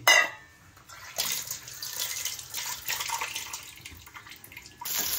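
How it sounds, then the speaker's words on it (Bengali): Something being washed under running tap water: after a brief clatter, a steady hissing stream flows for about four seconds, close and moderately loud, with no voices. "এটা ধুতে হবে। ঠিক আছে রাখো, আমি ধুচ্ছি।"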